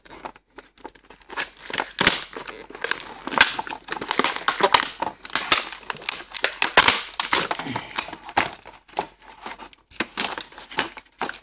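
Plastic packaging around a UST Para Hatchet is cut and torn open, with steady close crinkling, crunching and sharp snapping pops repeating over several seconds.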